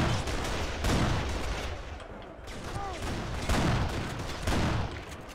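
Shotgun blasts in the video game Kane & Lynch: Dead Men, several loud, dense bursts in quick succession amid chaotic game noise.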